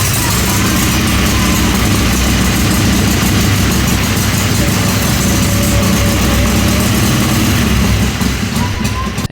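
A Harley Ironhead Sportster with its exhaust pipe just refitted runs nearby, producing a loud, continuous rumbling idle that holds steady throughout.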